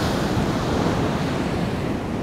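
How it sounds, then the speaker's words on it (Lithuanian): Sea waves wash onto a beach in Indonesia in a steady, close rushing surf roar, with wind buffeting the microphone throughout. "kažkaip labai nejaukas bangos"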